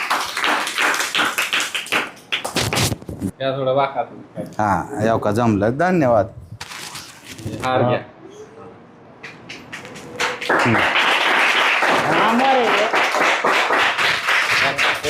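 Hands clap at a birthday celebration held with blind children, a burst of claps early on and sustained applause near the end, mixed with people talking and singing.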